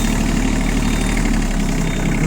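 An Iseki Sial TF223F Japanese tractor engine running steadily during a turn, a loud, close, even diesel drone with a low throbbing rumble and no speech.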